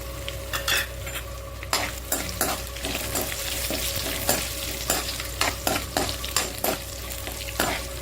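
Buttermilk chillies frying in oil in a pan for coconut rice, a constant close sizzle broken by frequent sharp metal clinks and scrapes of a spoon stirring.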